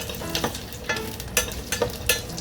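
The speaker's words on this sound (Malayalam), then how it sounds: "വെളുത്തുള്ളി അച്ചാറിന് വെളുത്തുള്ളി ഒന്ന് നന്നായിട്ടൊന്ന് എണ്ണയിൽ മൂപ്പിച്ചെടുത്തതിന് ശേഷം" Garlic frying in hot oil in a pan while making garlic pickle, a steady close sizzle broken by several stirring scrapes, with no voices.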